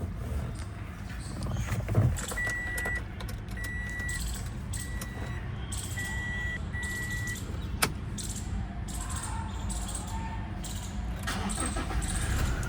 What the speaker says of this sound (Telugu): కార్ అయితే స్టార్ట్ చేశాను.